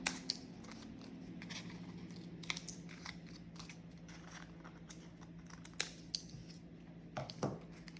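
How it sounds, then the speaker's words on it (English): Scissors snip at the square corners of cut-out poppy petals, rounding them off for a homemade wreath; sharp, close clicks come in small irregular clusters over a faint steady hum, with no talking. "so I can get my scissors in and just make them a bit more rounded"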